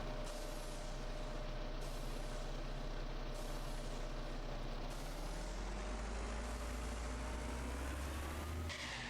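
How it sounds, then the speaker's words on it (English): Small starter truck driving in the video game Oil Refinery Simulation, a steady low engine drone with a rising tone, a faint hiss and a brief burst near the end, no talk. "We do have the small truck that you start with as well"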